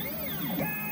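Nextwave CNC plotter drawing with a pen, a continuous whirring of stepper motors with gliding, shifting tones as the head moves, close and steady.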